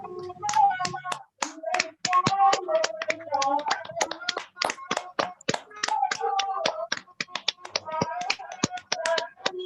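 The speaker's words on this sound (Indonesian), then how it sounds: "Ayo kita tepuk tangan atas diskusi kita." A small group claps hands after a group counseling discussion, with sharp, close, irregular claps in bursts and brief pauses between them.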